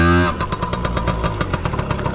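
Small Chinese Piwi 80 mini motorcycle with a semi-automatic gearbox, its engine revving up briefly, then running with a fast, buzzy, rattling putter close by.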